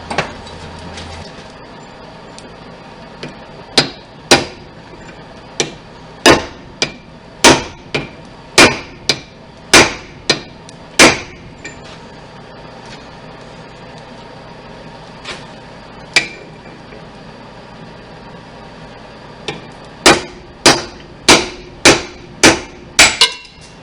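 Hammer blows forging a hot steel wrench into a knife ring out as loud, sharp metallic strikes, coming in irregular bursts of several hits separated by pauses, with no talking.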